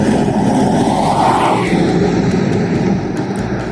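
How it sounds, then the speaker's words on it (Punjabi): A loud, steady roar of an airplane engine at an airport in Perth, Australia, fills the air nearby, a continuous rumbling drone with no voices, as a plane prepares for takeoff. "ਉਹ ਦੇਖੋ ਇੱਕ ਹੋਰ ਜਹਾਜ਼ ਆ ਗਿਆ ਤਾਂ ਹੁਣੇ ਉੱਡਣ ਦੀ ਤਿਆਰੀ 'ਚ ਜਹਾਜ਼"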